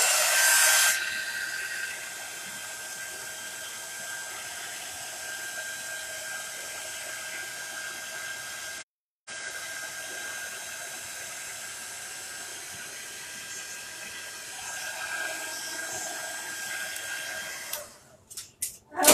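A handheld dryer blows steadily to dry chalk paste on a Chalk Couture vintage camper winter-scene craft project. The whirring hum stays close and even, cuts out briefly midway, then resumes and stops near the end.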